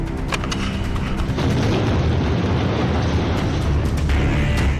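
Explosion of a tank in a Gaza combat clip, a loud, sustained, rumbling blast that fills the whole stretch with dense, roaring noise.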